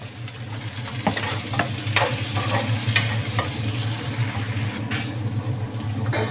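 Green chilies fry and are stirred with onions in a pan during a Bangladeshi bottle gourd and prawn curry, a steady close sizzle broken by scraping spoon strokes, with no voices.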